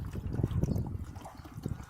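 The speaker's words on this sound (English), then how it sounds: "I'm going to add in some deionized water, but not a lot, because it's just going to run and flush that through." Deionized water trickles through a funnel into the coolant system of a Mercedes Sprinter, a soft, close, steady liquid pour with gentle splashing and no talk.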